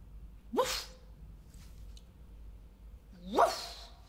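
A person imitates a dog barking, giving two sharp, loud, voiced woofs about three seconds apart in a quiet indoor setting, with no other talk between them.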